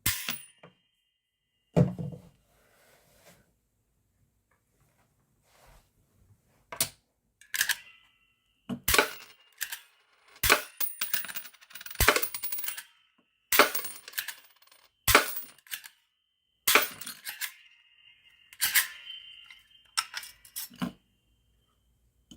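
Turnpike Toll Gun toy being cocked and fired with quarters, giving a long series of sharp mechanical clacks and metallic snaps, close and irregular, separated by short quiet gaps.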